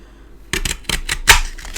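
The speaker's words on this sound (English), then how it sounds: "I'm using the oval punch now" An oval paper punch cuts through cardstock for a handmade Valentine card, giving a run of about six sharp, close mechanical clicks and snaps in quick, uneven succession with no voices.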